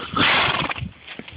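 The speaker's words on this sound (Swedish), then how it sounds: "Är du en olydig häst?" Horse Ynysgerwyn Nelson lets out a brief, loud whinny during free jumping, strong at the start and fading within about half a second into soft snorts and shuffling close by.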